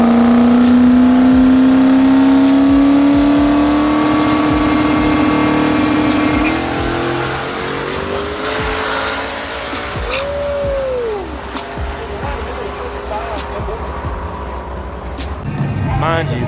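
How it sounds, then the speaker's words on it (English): A supercharged race truck with a blower roars at a drag strip, its loud engine note holding and then sweeping as it accelerates away, with crowd chatter and commentary voices over the engine. "Mind you, that truck has a blower on it."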